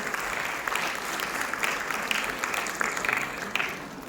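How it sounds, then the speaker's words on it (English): An audience gives a sustained round of applause for Quest's twentieth anniversary, a steady dense wash of clapping with a few sharper claps standing out. "So I think a round of applause for Quest has to be louder."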